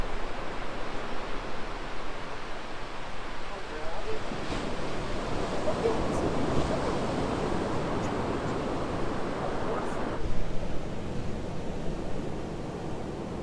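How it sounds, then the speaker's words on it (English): Ocean waves crash along the California coast, a steady broadband wash of surf with wind rumble that swells louder partway through and continues unbroken. "Listen to the ocean, the waves crashing out there."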